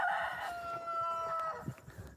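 Homestead chickens in a coop, with a rooster crowing in a long drawn-out call over scattered clucks and soft scratching, moderately close.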